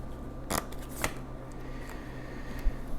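Tarot cards are shuffled and drawn at close range, giving a few quiet, sharp riffling snaps and light papery slides against a soft background hum.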